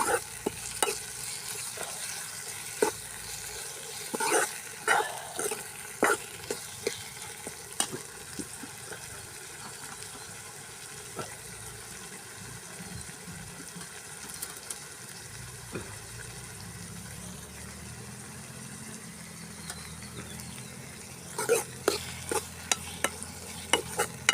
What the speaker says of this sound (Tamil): தக்காளி போட்டுக்கிறோம் அதுவும் சேர்ந்து வதங்கட்டும்